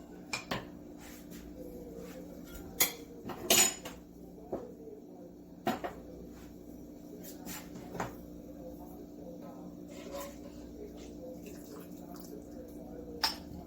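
Black bean, chorizo and shrimp soup ladled from a pot, with scattered clinks and knocks of a ladle against the pot and a few wet drips, spaced irregularly over a low steady background hum.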